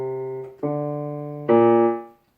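Piano sounding sustained chords of a 1-5-6-4 progression, three clear strikes in slow succession, the last chord ringing out and fading, close and alone.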